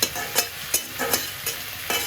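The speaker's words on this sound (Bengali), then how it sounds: "এটা তেল ছাড়া ভাজতে হবে" Spice powder dry-roasting in a pan without oil is scraped and stirred with a spoon in about five regular strokes, each a short close scratch over a faint hiss, with no voices.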